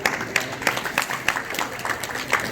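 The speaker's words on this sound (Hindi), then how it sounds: "स्वागत में तालियां तो बजा दिया करो।" Scattered audience applause at a village honour ceremony, steady and moderately near, with no voices over it.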